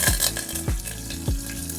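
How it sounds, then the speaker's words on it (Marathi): Cumin and mustard seeds crackle and sizzle in hot oil, a steady frying hiss with a few dull knocks of a spoon against the pan. "चला आपण आधी तेल घालूया, फोडणी करू."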